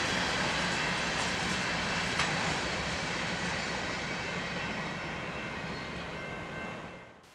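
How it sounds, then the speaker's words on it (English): A train picks up speed and rolls off into the night, a steady, broad rumble of wheels and engine that holds for several seconds, then fades away at the end. "Then the train picked up some speed and rolled off into the night."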